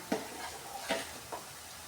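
An Indian tadka for besan kadhi, spices sizzling in hot oil in a pan, comes through faint and close as soft crackles with three brief stirring scrapes.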